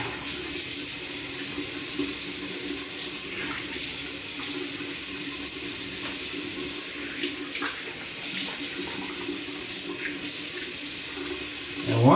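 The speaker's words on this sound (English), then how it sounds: "just finish rinsing off my head" Water running steadily from a tap while someone rinses off a freshly wet-shaved head, a constant splashing rush with brief dips and surges as hands move under the stream, close and loud.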